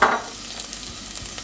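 Cashews roast with ginger and garlic in a pan on the stove for paneer capsicum masala, giving a close, steady sizzle with a louder burst of frying at the start.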